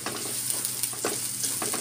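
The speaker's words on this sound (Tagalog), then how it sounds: "ngayon magigisa na tayo ng bawang" Garlic sautés in a hot pan for a pork mechado, giving a continuous crackling sizzle broken by brief scraping stir strokes, close and fairly loud, with no talk.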